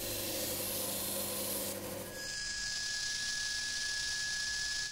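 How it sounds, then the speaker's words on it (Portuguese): Fine sandpaper of grit 100 or 200 rubs across wooden stairs in a steady, loud, continuous scratchy hiss, close and unbroken, with no talking. "Repita a operação com uma lixa fina com grão 100 ou 200."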